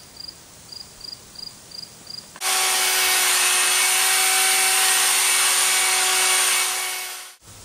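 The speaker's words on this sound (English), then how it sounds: "So the sealer has dried. We're just going to burnish it up here full speed." A power burnisher runs at full speed over a sealed concrete countertop, a loud, steady high-pitched whine with a constant tone that starts abruptly after a few faint ticks and holds until it cuts off near the end.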